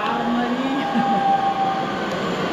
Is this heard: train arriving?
yes